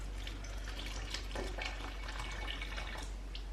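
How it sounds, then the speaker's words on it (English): Salty water poured into a bowl of flour for dough, a faint continuous trickle and splash with scattered drips over a low background hum, quiet and unaccompanied by speech. "Pour in almost all of the salty water until a shaggy dough forms."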